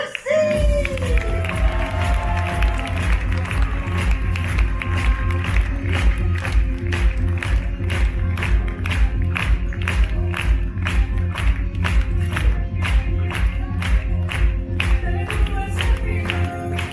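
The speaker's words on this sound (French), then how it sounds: "si vous avez aimé apprécier ce spectacle, je pense que de pouvoir applaudir les artistes, mais le plus fort possible" A crowd applauds performers after a Zorro-themed live show, dense sustained clapping with scattered cheers and whoops, loud and continuous from start to finish, opening with a brief shout.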